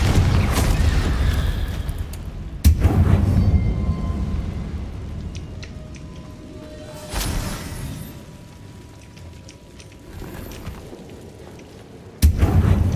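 A fire-blast spell explodes in Hogwarts Legacy, with loud booming blasts near the start, one in the middle and one at the end, separated by rumbling decay and quieter game ambience.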